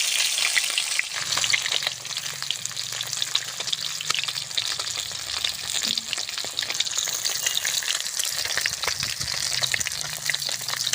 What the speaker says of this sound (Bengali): আমি এই পিসটা খুব সুন্দর করে ভেজে নেব।